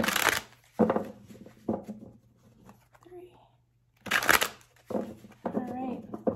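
Tarot cards are shuffled in two quick riffling bursts, crisp and close, with a soft voice speaking between and after them.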